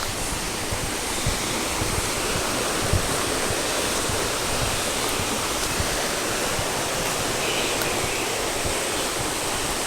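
Water rushes continuously over rocks in a steady, broadband wash, close and fairly loud, with no voices.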